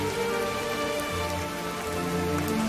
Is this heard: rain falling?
yes